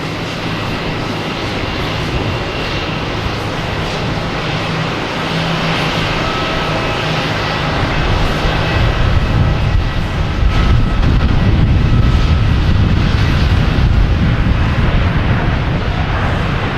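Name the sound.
Delta Airbus A321neo landing at Boston Logan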